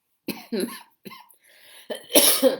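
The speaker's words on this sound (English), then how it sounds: "So please forgive me if I do still have this little bit of a cough." Someone coughs close up, a couple of short dry coughs, a breath, then a louder, harsher cough to finish.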